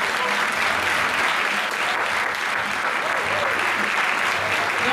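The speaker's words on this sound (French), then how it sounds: "Alexis, responsable du Téléthon de Var, si on l'applaudit très fort" A pageant audience at a Miss Ronde Poitou-Charente election applauds loudly and continuously, a thick wash of many clapping hands with faint voices mixed underneath.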